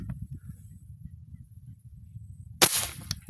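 An airgun fired while fishing for tilapia: a low, muffled background hum, then a single sharp crack of the shot near the end, followed by a faint click.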